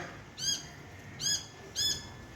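A rooftop bird gives three evenly spaced, harsh, bright squawks that are brief and moderately loud over a faint, steady outdoor background, with no voices heard.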